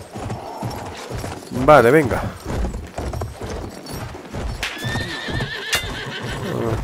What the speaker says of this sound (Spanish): Vamos a probar el caballo,